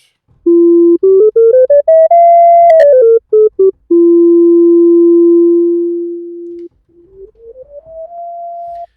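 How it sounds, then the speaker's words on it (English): A pure, sine-like tone from a self-oscillating SynthMaster 3 filter fed white noise, stepping up and down in pitch, then holding steady, fading, and gliding upward again; loud and alone. "the filter creates a sine wave-like sound."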